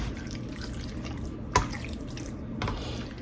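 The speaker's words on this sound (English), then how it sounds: "we still have a little water coming off of the squash" Water drips from cooked squash in a home kitchen while pork roast and meatloaf dinner is prepared. A single sharp drip lands over a soft, steady background trickle.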